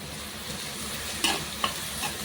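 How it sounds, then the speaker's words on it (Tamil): Onions sautéing with salt in a pan for a soya chunk gravy: a steady low sizzle with a few sharp scrapes and clinks of a spatula stirring, close up, no voices. "நான் இது கூட கொஞ்சம் உப்பு சேர்த்து வதக்குறேன்"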